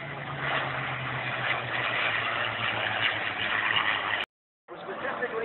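Navy Hellcat and Bearcat fighter planes at the Point Mugu air show in Ventura, California, produce a steady loud engine drone with a low rumbling tone, broken by a brief dropout before it resumes.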